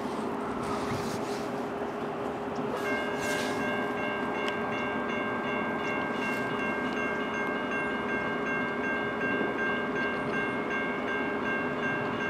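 A CN westbound local grain train led by a single locomotive rumbles past steadily and loudly, with a continuous grinding roar and a high sustained tone from the wheels or bells running throughout.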